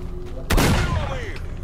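One loud pistol shot cracks in STALKER: Shadow of Chernobyl, a sudden close blast that rings out and decays over about a second.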